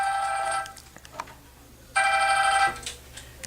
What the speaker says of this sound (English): Wait, is it your phone?